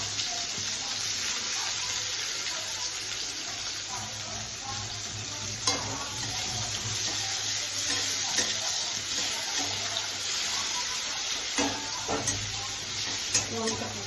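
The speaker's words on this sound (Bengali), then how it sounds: "এবার আমি দিয়ে দেবো পেঁয়াজ কুচোনো আর লঙ্কা চিড়ে আর পেঁয়াজ কুচোনো দিয়ে দিলাম।" Chopped onion and slit green chillies frying in a pan for a jackfruit and prawn curry give a loud, steady sizzle throughout, with occasional soft stirring scrapes and no talking.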